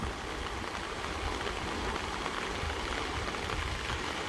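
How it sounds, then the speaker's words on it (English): Steady rain falling during a stretch of high water, a dense, even hiss of drops mixed with rushing water, continuous and moderately distant. "We're getting a lot of rain."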